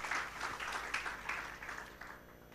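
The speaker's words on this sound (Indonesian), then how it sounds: "Mari yang sungguh percaya kembali berikan tepuk tangan." Church congregation applause during a worship service, a soft, uneven patter of clapping heard from a distance, rising and fading in small waves over a low hum.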